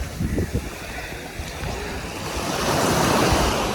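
Sea waves wash onto a Sri Lankan beach with green-blue water, a loud, continuous surf roar with low rumbling surges that swells toward the end, mixed with wind buffeting the microphone.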